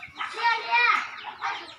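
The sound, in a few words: chickens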